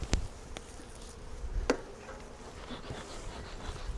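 Honeybees hum in a low, steady drone around an open Flow Hive Classic, with a few sharp knocks and clicks from the hive and no talking.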